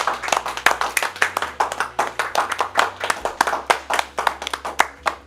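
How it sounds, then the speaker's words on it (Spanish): A youth group at a church service gives itself a round of applause, a fairly small crowd clapping in a brisk, fairly regular rhythm close by for several seconds, with a low hum beneath and no talking. "So let's go ahead and give you guys a round of applause."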